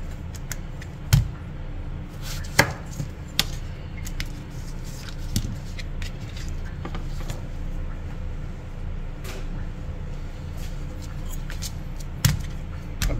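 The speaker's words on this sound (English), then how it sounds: "We're just going to cut off the ends and get rid of that." A kitchen knife trims the ends off a rinsed zucchini on a cutting board, giving a few sharp scattered knocks against a dull room background with no speech.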